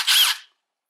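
A Milwaukee Stubby impact wrench gives a single short, close burst of high whirring power, lasting under half a second before cutting to silence.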